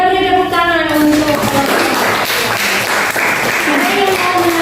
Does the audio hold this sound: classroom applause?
yes